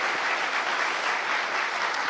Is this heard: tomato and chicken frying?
no